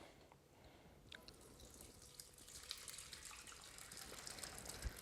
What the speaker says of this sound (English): we're going to take this juice, we're going to pour it off in here.